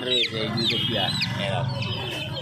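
Young chickens in a cage at a hen market in Uluberia cluck and peep repeatedly at close range, a busy overlapping chatter of short calls and rising chirps.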